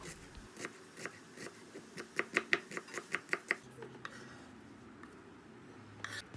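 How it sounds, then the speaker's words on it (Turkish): Quick knife chops on a cutting board as onions are diced, a run of sharp close taps in bursts, then a quieter pause with one last chop. "İç harcı için 2 tane orta boy soğanı küçük yemeklik olarak doğrayalım"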